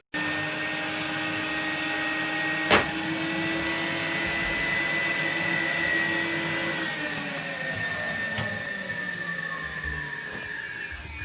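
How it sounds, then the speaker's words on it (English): A vacuum forming machine's vacuum pump runs steadily while forming plastic sheet, with a loud, continuous mechanical drone and whine, a sharp click early on, no voices. "On with the vacuum."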